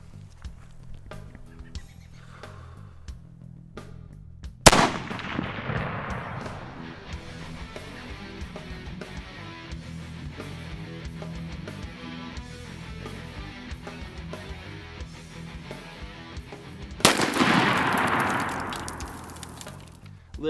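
A custom Mosin Nagant rifle fitted with a Premier reticle scope fires at a 200-meter target outdoors: two sharp, loud reports about twelve seconds apart, each trailing off in a decaying echo over quiet background noise.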